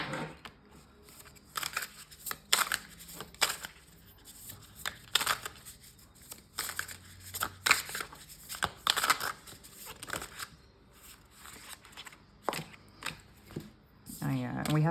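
Tarot cards being shuffled in repeated bursts of crisp riffling and flicking, close and fairly quiet, with short pauses between shuffles.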